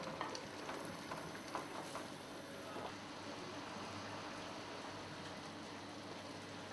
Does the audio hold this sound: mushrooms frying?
yes